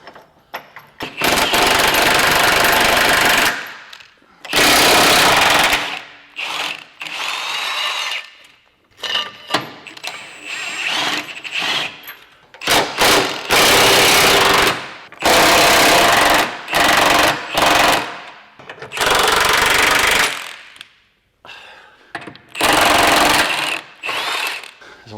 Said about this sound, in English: start taking out the main subframe bolts right here